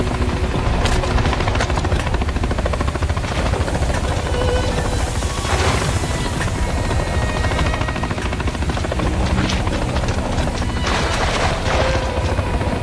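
A military helicopter from the Call of Duty: Modern Warfare 3 video game whirs with a loud, continuous rotor roar, overlaid by bursts of gunfire and scattered impacts and explosions.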